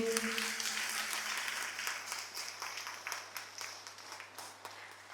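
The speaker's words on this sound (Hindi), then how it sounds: "जोर से तालियां बजाकर प्रभु को धन्यवाद दीजिए" A church congregation claps together in sustained applause, mid-distance and fairly quiet, fading gradually over several seconds with a low steady hum beneath.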